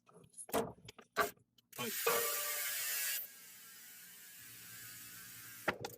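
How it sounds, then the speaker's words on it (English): Industry 9 hubs on a mountain bike freewheel with a loud, dense buzzing ratchet for about a second, after bursts of nearby clatter and a quieter whirring hiss. "Inside of those rims, we have those Industry 9 hubs."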